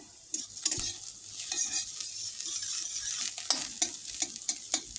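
Bitter gourd fried with turmeric in a pan: a steady close sizzle with repeated scraping stirs and clinks of the spatula throughout, and no talking.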